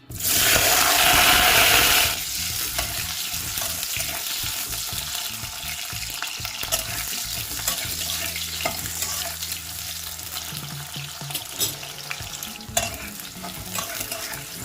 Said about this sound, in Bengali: কড়াইতে আমি সর্ষের তেল গরম করে নিয়েছি। প্রথমে আমি আলুটা দিয়ে দিচ্ছি।